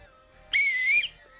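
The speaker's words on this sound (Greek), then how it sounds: "θα σφυρίξει και μετά θα πει τη σωστή απάντηση" During a music quiz, a single short, clear whistle sounds as a contestant signals that they know the answer. It is a steady, slightly falling note of about half a second, close and loud against a quiet background.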